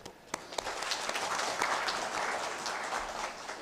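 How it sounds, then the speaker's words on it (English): Audience applause at a book release function honouring the book's editor, a steady dense wash of clapping from a gathered crowd lasting throughout, fairly distant in the hall. "let's give a big applause to the editor of the book, Professor N. Nimai"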